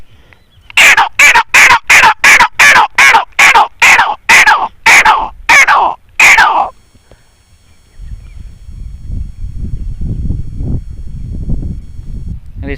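A man imitates the grey partridge call with about eleven sharp, evenly spaced chirping bursts, loud and close, followed by quieter low rustling background noise.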